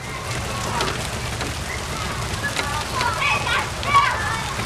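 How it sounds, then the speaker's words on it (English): Hard rain pours down steadily outdoors, a broad continuous hiss with occasional splashes, while children and adults talk and shout over it. "Oh god, it's starting to rain harder."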